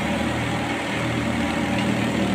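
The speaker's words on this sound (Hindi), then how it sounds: "बिल्कुल लोड फ्री ट्रैक्टर चल रहा है।" A Mahindra 265 DI tractor of 29 horsepower drives a 25 HP thresher through a pulley, giving a steady, even mechanical hum and rumble that runs unbroken and fairly close throughout.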